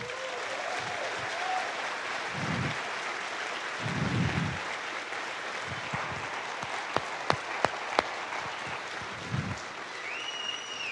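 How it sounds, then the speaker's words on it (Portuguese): A church congregation claps for a group of young people, the applause rising and falling around scattered louder claps and a few voices over it. "Eu queria que vocês aplaudissem esses jovens."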